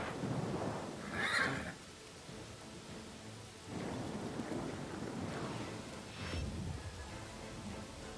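A horse whinnies once near the start in a video game, a shrill neigh over steady rain and low rumbling thunder, and all of it is fairly faint.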